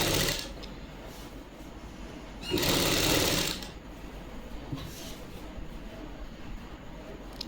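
A sewing machine stitching a kameez for a Punjabi suit, a close, rapid mechanical chatter that surges into a louder burst of fast stitching midway, then settles back to quieter running.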